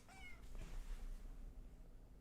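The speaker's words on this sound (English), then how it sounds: "It's a cat." A domestic cat meows once, a short rising call near the start, heard close and fairly quiet over a low steady room hum with no talking.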